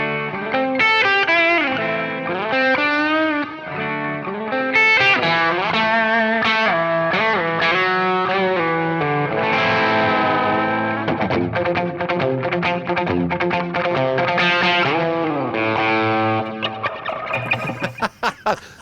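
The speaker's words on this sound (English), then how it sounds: "just to replicate that old vintage multi-tap was just a blast to be able to have in the pedal" Distorted electric guitar melody played through a Keeley HALO Andy Timmons Dual Echo pedal set to a vintage multi-tap echo, loud and continuous with repeating trails and effects, no talking.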